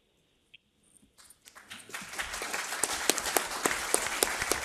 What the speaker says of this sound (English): Clapping for yourself.